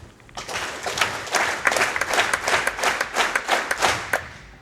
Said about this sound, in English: Give these 10 shiny claps to BubblesDelFuego's choice